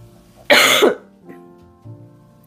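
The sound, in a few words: cough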